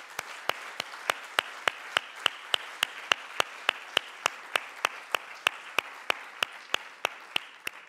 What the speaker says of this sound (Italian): vi chiedo un applauso.